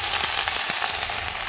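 Vegetables dropped into a hot iron kadai sizzle and crackle loudly, a dense steady frying hiss with brief stirring clicks, close and continuous.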